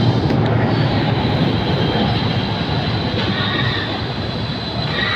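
An arriving metro train rumbles loudly and steadily close by, wheels grinding on the rails with a faint high squeal, no voices.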